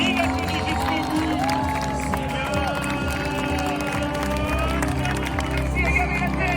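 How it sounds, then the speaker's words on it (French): Crowd at the Annecy lake marathon applauding and cheering the race winner, a steady outdoor wash of clapping and crowd noise under a continuous announcer's voice. "applaudissements s'il vous plaît"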